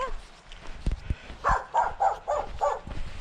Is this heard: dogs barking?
yes